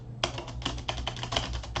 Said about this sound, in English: And now on keyboard, I have spaces.